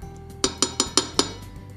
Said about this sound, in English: I'm going to put my lid on, and I'm going to turn my heat down